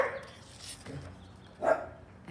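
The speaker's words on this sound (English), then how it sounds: "I hear my dogs over there are barking." Pet dogs bark in a house, giving a couple of short, moderately distant barks and yips over faint background noise.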